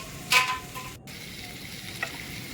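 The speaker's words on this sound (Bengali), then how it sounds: "এবার সমস্ত উপকরণকে একসাথে ভালো করে ভেজে নেওয়া হচ্ছে।" Chopped onion fries with cashews, poppy seeds and white sesame in a steady, soft sizzle, with a brief louder stir or clink near the start and a faint tap later.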